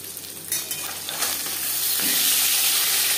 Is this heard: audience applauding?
no